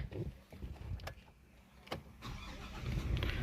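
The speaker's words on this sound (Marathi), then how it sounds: "चला एकदा करूया गाडीला स्टार्ट वगैरे" A 2026 Hyundai Venue HX2 diesel car starts from inside the cabin: a few faint clicks, then the cranking catches and the engine settles into a low, steady idle rumble that grows and holds to the end.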